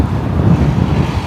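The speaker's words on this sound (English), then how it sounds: "Very windy, which is nice today" Brief, steady rush of wind buffeting the microphone outdoors near a flagpole in Portland, Oregon, a low rumbling roar with no break.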